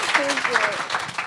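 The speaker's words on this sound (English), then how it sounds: "that deserves a round of applause" Audience at a New York Fashion Week talk on beauty standards breaks into a short burst of steady applause while a voice talks over it.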